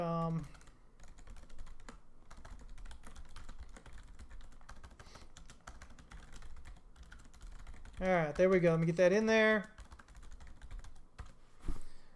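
Computer keyboard typing runs through the clip as a steady patter of soft clicks, with someone talking briefly at the start and again near the end.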